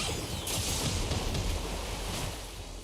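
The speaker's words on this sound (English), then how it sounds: "So, water attack." A water attack effect from the Seven Deadly Sins: Grand Cross game bursts out as loud rushing, crashing whooshes, with heavy low booms in the middle that fade slightly toward the end.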